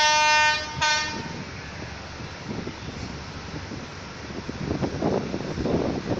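An older locomotive with a compressed-air system sounds a short horn blast, then rumbles steadily along the track toward a railway switch, growing slightly louder near the end.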